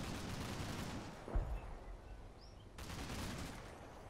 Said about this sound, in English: Ah, got arty falling down there.